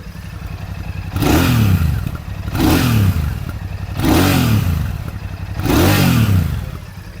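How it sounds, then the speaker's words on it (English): A Royal Enfield Bullet 650 with a 650cc parallel-twin engine is revved four times in an even rhythm at close range. Each loud blip rises and falls back to a steady idle between revs, with no talk over it. "Now the engine is the tried and tested 650cc engine."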